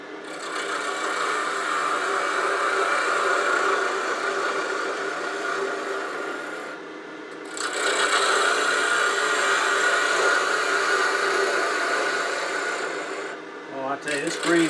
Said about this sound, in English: this green cherry just cuts like butter